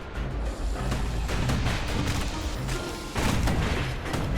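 Guns on a security skiff fire in the Bastion video game: dense, rumbling booms and crackling blasts roll on steadily for several seconds, with a heavier burst near the end over a constant low roar.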